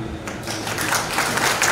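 Applause from an audience at a BPH Migas and DPR RI synergy event, a steady dense wash of clapping held at an even level throughout.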